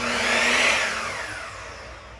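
A Bosch GCM12SD miter saw motor spins up quickly with a rising whine, then winds down over about two seconds. It is close and fairly loud, with no voices.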